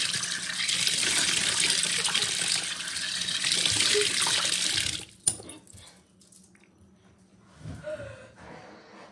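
Cold water runs from a bathroom tap during a morning grooming routine, a steady loud rush that stops abruptly midway, followed by quieter handling sounds and a faint breath.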